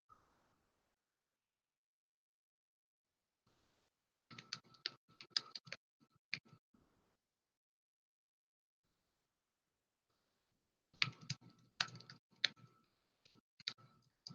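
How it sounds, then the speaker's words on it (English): Bursts of rapid keyboard typing on a computer, two separate clusters of quick clicking keystrokes with a long quiet pause between them, close and fairly soft. "I'm just going to type in anything for right now"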